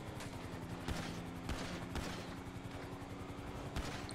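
Gunshots in GTA 5 Online, a faint fusillade of sharp cracks recurring every half second or so over a constant engine-like drone.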